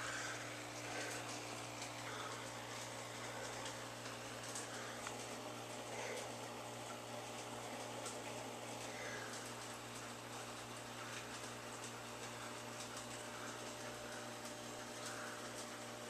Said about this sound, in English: I like the air-powered filters because you can run a whole lot of them off of one pump.